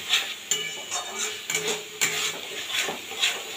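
A spatula scrapes and stirs mutton ghugni with meat masala in a metal pan, making steady rhythmic strokes about twice a second, each a bright clattering scrape, with a faint sizzle underneath and no voices.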